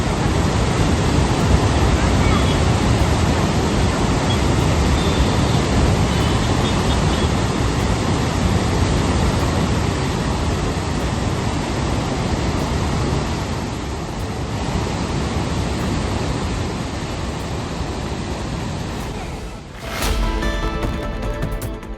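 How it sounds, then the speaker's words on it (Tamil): Water surges out through the sixteen sluice gates of Mettur dam in a loud, continuous roar that never lets up, steady and broadband like heavy rushing flow heard up close. "16 கண் மதகுகள் வழியாக தண்ணீர் பெருக்கெடுத்து ஓடுவதை"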